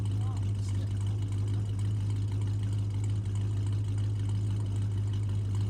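A 1970 Roadrunner engine idles steadily, a constant low rumble with a strong deep hum that stays even and unbroken throughout.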